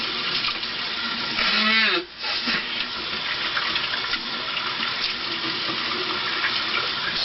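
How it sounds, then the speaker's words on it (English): Water running steadily from a sink tap while someone rinses out their mouth, a continuous rushing stream with a brief gurgling dip partway through, close by. "Now I'm rinsing my mouth out."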